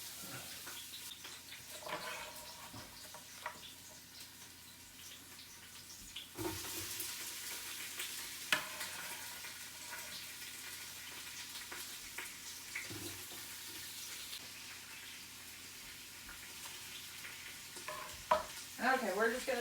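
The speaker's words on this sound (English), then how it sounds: "we'll be right back to show you the onion sauteing" Onion sautés in a hot Instant Pot with a low, steady sizzle, punctuated by occasional scraping and stirring knocks, fairly faint throughout.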